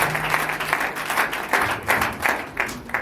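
Congregation applauding during a church prayer gathering at the Chapel of Restoration, a steady wash of many hands clapping with rhythmic swells, moderately loud and filling the room throughout.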